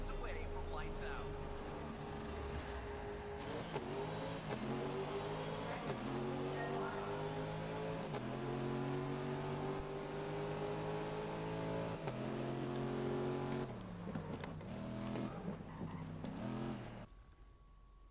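Race cars in the GRID racing game revving and launching off the start, a roaring pack of engines climbing through gears with repeated shifts and tyre noise, loud and sustained throughout.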